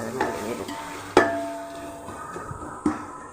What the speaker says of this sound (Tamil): இப்படி கொஞ்ச நேரம் வதக்கும்.